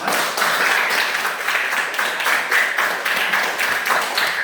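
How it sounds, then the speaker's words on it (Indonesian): A class of students clapping together in a classroom, dense and sustained close applause lasting several seconds with an uneven rhythmic pulse, no talking over it. "Tepuk tangan dulu untuk kita semua."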